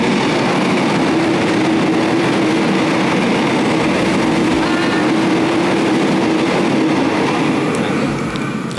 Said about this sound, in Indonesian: yang lewat tadi yaitu kereta listrik